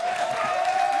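A studio audience at a live entertainment show claps for a team in a short, even wash of dense applause with a faint steady tone running beneath.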